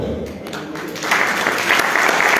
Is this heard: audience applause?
yes